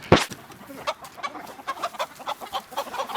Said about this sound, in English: I'm going to catch me a chicken today